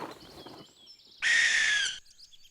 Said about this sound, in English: it looks like an owl, but it doesn't sound like the owl from my toy